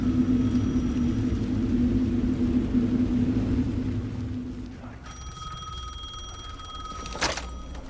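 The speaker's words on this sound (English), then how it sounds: "The phone again." Telephone ringing in the Alan Wake 2 video game: a steady electronic ring tone sounds over a low rumble and fades toward the end, with no speech.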